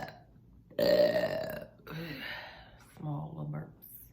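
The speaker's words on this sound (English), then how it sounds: "Small little burps." A person lets out a few burps, a long loud one first and then two shorter, smaller ones, close to the mic with voiced gurgling tones.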